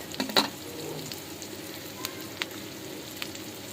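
Mashed ingredients fry in a pan for a bottle gourd greens recipe, giving a soft, low sizzle with a few faint scrapes and clicks at close range and no talking.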